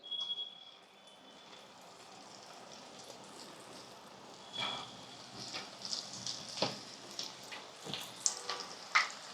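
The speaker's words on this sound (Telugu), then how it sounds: "ఇప్పుడు నూనె బాగా వేడెక్కిందండి ఇందులోకి మనం ఇవి పకోడీలాగా ఒక్కొక్కటి ఇలా వేసుకుందాం" Meal maker (soya chunk) pakodas are dropped one by one into hot oil for deep frying, and a soft hiss swells into a dense, crackling bubbling that grows louder and busier toward the end.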